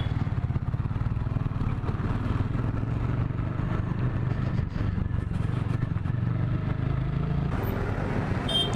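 A TVS Apache 200 motorcycle engine drums steadily while riding, a close, even mid-pitched thrum with a faint rattle over the whole stretch.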